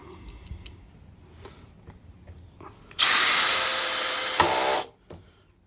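A power driver runs a screw in one continuous loud burst of about two seconds, preceded by quiet handling noises, then stopping abruptly.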